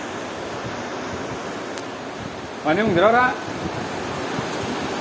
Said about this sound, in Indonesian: Ini laut ya. Tuh, lautnya ke sana tembus ya.